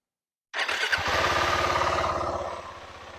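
A Husqvarna Svartpilen 701 single-cylinder motorcycle fires up abruptly and revs, its loud, close, rapid thumping pulses holding steady for a few seconds before easing slightly.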